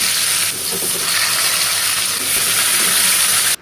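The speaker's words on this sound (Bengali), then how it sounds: "প্রথমে নুন হলুদ মাখিয়ে পটলগুলো ভেজে নিয়ে আলুগুলোও দিয়ে দেবো" Pointed gourd (potol) rubbed with salt and turmeric fries in hot oil, a steady, loud, close sizzle and hiss that carries on without a break and cuts off sharply at the end.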